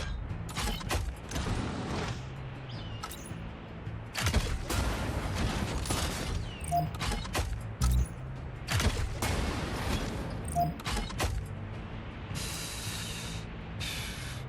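Gunfire and mechanical clatter in the mech strategy game Mecharashi, with repeated bursts of rapid shots separated by short gaps over a low rumble, at moderate volume with no voices.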